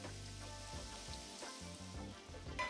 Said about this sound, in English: I'm adding the shrimp to the skillet